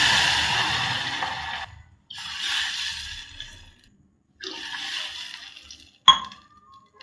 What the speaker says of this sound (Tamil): இப்போ 3 டம்ளர் இதில் தண்ணி போட்டு ஊற்றிக்கலாம்.